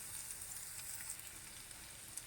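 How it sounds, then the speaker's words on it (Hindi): Chopped ginger, garlic and onion sautéing in a little oil: a faint, steady crackling sizzle, quiet and continuous, with no talking. "इन सब चीज़ों को 1 से 2 मिनट हम सौटे कर लेते हैं।"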